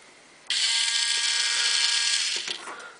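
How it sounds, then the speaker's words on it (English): An electric motor drives a low loader trailer's tailgate, running at a steady whine for about two seconds after a sudden start, then slowing and fading with a few clicks near the end. "connect it up to the battery and show you the motor working"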